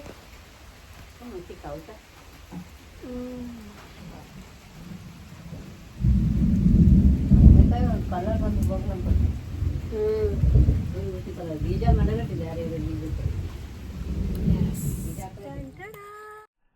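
Heavy rain roars steadily in the background while people talk over it, the downpour loud and continuous.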